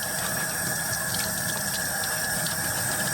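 Warm tap water runs continuously as gloves are rinsed of Oxi Clean, a loud, close and even rushing spray with no pauses or voices.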